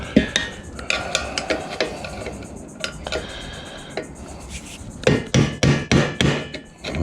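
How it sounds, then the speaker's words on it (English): Metal hammer strikes on a scrap autoclave being broken apart, irregular sharp clanks and knocks, some quick clusters of blows, close and fairly loud over a low workshop background. "Decent hammer might do the trick."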